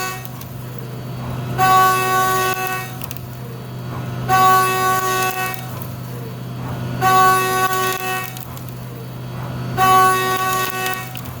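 Steady machining drone from a 1.25-inch three-flute Walter end mill cutting aluminum, with repeated rising whine as the cutter passes through metal, four similar cycles, fairly loud and even.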